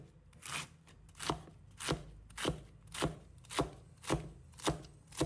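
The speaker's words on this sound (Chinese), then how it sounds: "把它切成丝，菜刀与案板垂直，小心且匀速的切丝" A cleaver slices cabbage into shreds on a cutting board, the blade held vertical: about nine crisp, evenly spaced chops in a steady rhythm, close and clear with nothing else heard.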